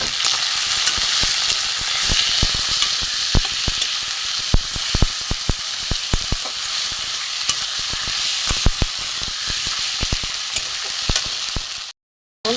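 Ground turmeric, cumin, coriander and grated ginger fry in hot oil with a steady, loud sizzle, while a spatula scrapes and taps the pan in frequent sharp clicks; the sound cuts out briefly near the end.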